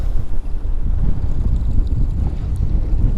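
Strong wind buffets the microphone on Lake Sakakawea during walleye fishing from a boat in the rain, a steady, loud low roar with no voices.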